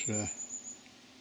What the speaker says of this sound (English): judging by the number of wasps going in and out of there, that is a big nest in there.